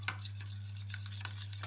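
Chicken curry stirred in a pot, a few soft scraping strokes of a spoon against the pan at an uneven pace, quiet and close, over a low steady hum.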